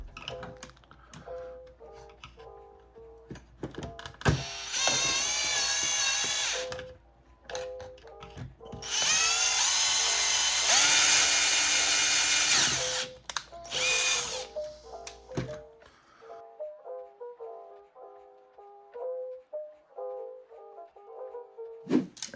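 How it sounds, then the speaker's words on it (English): An electric drill fitted with a bigger bit bores into a Neutrona wand in two loud, sustained bursts, separated and followed by clicks, taps and handling knocks up close. "And then move up to a bigger drill bit."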